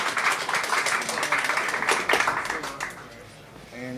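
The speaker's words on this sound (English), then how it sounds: "Let's all clap." A small office audience claps to welcome a guest, a dense patter of hands for about three seconds that then fades, with talk overlapping the end.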